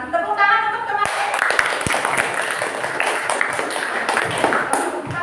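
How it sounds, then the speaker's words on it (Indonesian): A group claps in applause for classmates who have just presented, dense and steady from start to finish, with a faint bit of talk at the very beginning. "Tepuk tangan untuk teman-teman."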